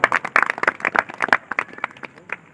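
Audience applause at a Christian gospel gathering in Kadapa, with scattered, uneven hand claps that rise and fall over a couple of seconds, fairly close and with no talking over them.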